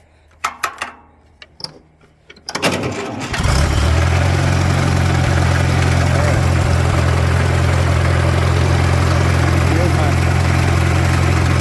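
A 1942 Farmall B tractor engine, started semi-warm without choke, cranks with a few sharp clanks and then catches, settling into a loud, steady close-up idle with a deep throbbing rumble.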